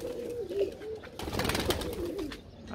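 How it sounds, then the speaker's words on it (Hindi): High flyer pigeons coo in a soft, repeated rolling warble, close by and fairly quiet, with a brief burst of rustling noise in the middle. "ये देखें हाई फ्लाइट्स कैसे कबूतर है।"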